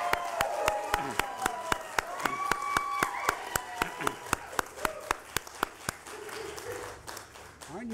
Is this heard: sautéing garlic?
no